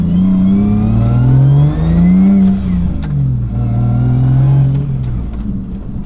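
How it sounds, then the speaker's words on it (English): Loud, steady exhaust note from a Lexus IS300 fitted with a 1JZ-GTE engine, revving up and down in smooth swells across several seconds, heard close with no talking. "exhaust is super nice. Like, it's loud, but it's clean."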